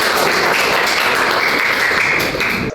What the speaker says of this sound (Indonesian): Oke, kita berikan tepukan kepada kelompok.